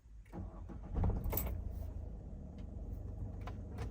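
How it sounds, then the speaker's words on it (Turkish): Peugeot 5008 car being started: a brief key rattle and starter crank around the one-second mark, then the engine settles into a low steady idle, close by and without talk. "Aracımızı çalıştıralım."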